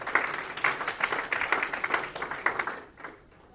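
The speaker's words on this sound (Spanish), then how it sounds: "Dale ese aplauso a Cristo si quieres darle." A church congregation claps during a sermon by Pastor Miguel Santiago, a lively, moderately loud patter of hands with a loose rhythmic pulse that thins out near the end.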